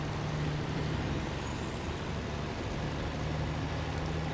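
Heavy truck engine in SnowRunner rumbling steadily at low pitch, a constant close drone with no breaks.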